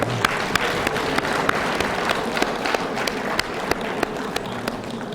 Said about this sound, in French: So let us give a good clap to the Lord